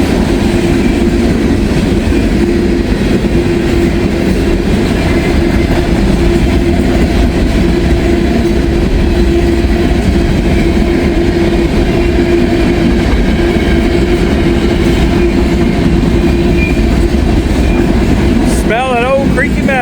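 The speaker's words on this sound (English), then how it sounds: "CSX train of some sort, not sure what the designation is," A CSX freight train rolls past in a steady, continuous rumble with a sustained tonal drone and rattling cars, loud and near throughout, with a brief squeal near the end.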